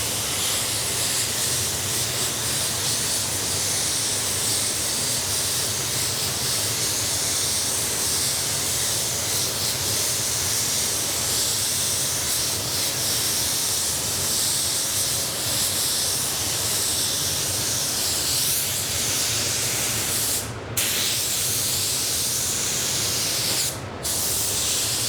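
A spray gun lays Exodus basecoat onto a black Chevy hood at 26 PSI, giving a loud, steady, close hiss that runs without a break, with two brief dropouts near the end.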